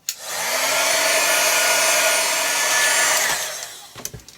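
A heat tool blows steadily and loudly for about three seconds while drying paint on a junk journal paperclip, then cuts off, followed by a few light knocks.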